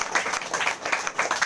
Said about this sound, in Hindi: शांतिपूर्वक अपने स्थान पे ताली बजा के बैठ जाइए।